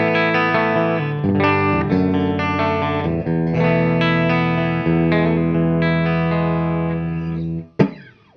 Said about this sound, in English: My clean tone through a deluxe reverb is this.